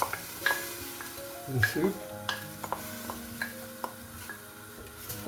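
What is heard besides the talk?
onions sautéing on medium fire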